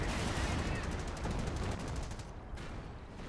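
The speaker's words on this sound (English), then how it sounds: "Dropping 200mm artillery right on top of the howitzer" Heavy 200mm artillery shells from Company of Heroes land on a howitzer next to a supply yard, a dense, loud, continuous rumble of rapid blasts and crackling debris that thins out near the end.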